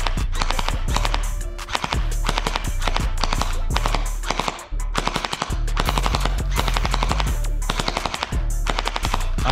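A Cyberpunk gel blaster fires rapid, sustained bursts at a moving windmill target, a loud, close, machine-gun-like rattle that breaks off briefly midway before resuming.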